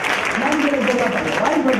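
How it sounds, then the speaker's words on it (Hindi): A loud, dense crowd applauding for a motivational speaker at a live event, a steady roar of clapping with no gaps and voices shouting over it. "मेरे जोरदार ताली होनी चाहिए"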